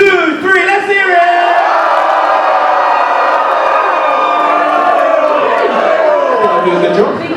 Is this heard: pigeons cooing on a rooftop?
no